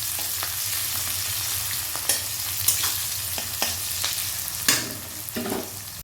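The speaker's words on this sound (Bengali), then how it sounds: "এবার পেঁয়াজটা একটু লালচে করে আগে ভেজে নেব।" Onions fry in hot oil in a pan, giving a continuous close sizzle broken by occasional scraping stirs and crackles, with no voices.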